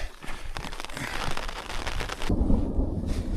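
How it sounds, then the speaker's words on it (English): Thunderstorm with hail and lightning on the Colorado Trail in the mountains: a loud crackling roll of thunder over a rain wash, giving way to a deep rumbling boom near the end. "it started getting pretty bad, and we started getting a little bit of hail and lightning"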